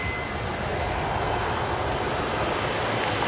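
A Qantas Boeing 787 jet arriving at Brisbane Airport gives a steady, loud, broadband engine roar that holds constant throughout with a faint high whine, and no voices.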